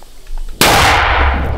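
A single sharp, loud blast of a mortar firing in combat near Bakhmut, Ukraine, hits suddenly and rings out into a long, broad roar that fades slowly, with faint background noise before it.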